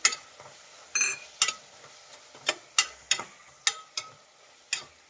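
Sliced capsicum is tossed in a hot pan for pudina bath, a spatula scraping and knocking in a steady series of sharp clacks about every half second over a faint sizzle, close, with no voices.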